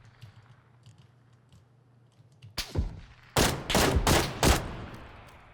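Gunfire in PLAYERUNKNOWN'S BATTLEGROUNDS, with a faint quiet stretch followed by a single loud shot, then a rapid burst of several close, sharp gunshots in quick succession.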